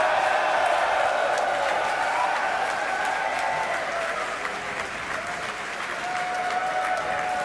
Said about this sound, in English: It looks like we got a crowd at our Hawthorne, California location.